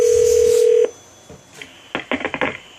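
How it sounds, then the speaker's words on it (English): A dial tone on a 1A2 key system telephone line sounds steadily for almost a second and then cuts off, followed by a quiet pause and then a quick run of touch-tone dialing beeps. "let's go ahead and dial extension 231"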